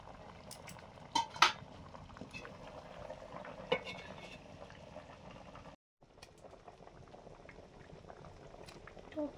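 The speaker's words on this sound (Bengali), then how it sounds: "টকটাও ফুটে গেছে" Fish curry with sour kulekhara greens bubbling at a steady boil in a pot, a continuous simmering gurgle with occasional utensil clinks, heard alone.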